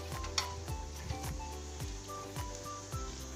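Vegetables being dipped into a boiling pot of water, heard as a steady bubbling sizzle with repeated soft splashy bursts as the greens go in, close and fairly quiet, with no voices.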